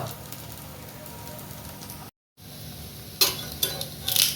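Food crisping in ghee or coconut oil in a pan sizzles steadily up close, cut by a brief silent gap, followed by louder bursts of crackle and stirring scrapes.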